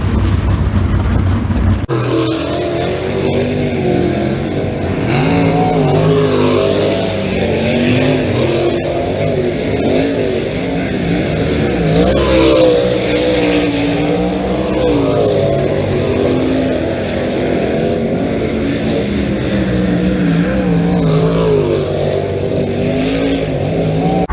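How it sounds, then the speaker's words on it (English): Wingless USAC race cars and late models race around a track, their engines roaring loudly and continuously with rising and falling revs as the field passes, heard from close by. "Got a badass field of cars here between the wingless USAC cars and the late models"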